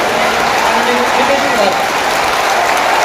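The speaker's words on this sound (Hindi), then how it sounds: "आप लोग तालियों के साथ बुलाएं" Audience at a Samrat Ashok birth anniversary event applauds steadily, a dense, loud, continuous patter of clapping from a large crowd filling the whole stretch.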